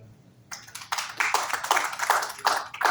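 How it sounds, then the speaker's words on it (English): Applause from an audience at the 3rd ICA Half Marathon ceremony in Colombo: after a quiet half second, scattered claps break out and quickly thicken into a busy, uneven patter that keeps building. "A big round of applause for CCR and CNR."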